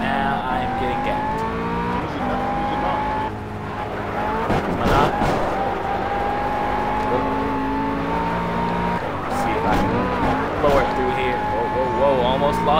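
A race car at full throttle in the Project Cars video game, its engine droning loud and steady with pitch shifting as it accelerates and shifts, interrupted by bursts of tire squeal and skidding.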